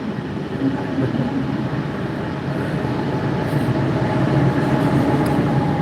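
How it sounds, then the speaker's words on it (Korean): KTX high-speed train pulling into a platform at Cheonan-Asan station, a steady loud rumble of wheels and rail noise that builds slightly toward the end, heard up close with no talking. "목포 행 KTX 3435 열차가 아주 들어오고 있고요"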